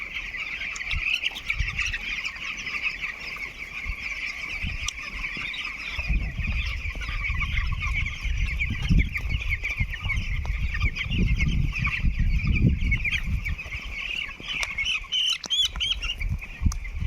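A flock of around 4,300 nine-day-old chicks on a free-range chicken farm keeps up a continuous chorus of high cheeping and clucking, with occasional wing flutters and low handling noise.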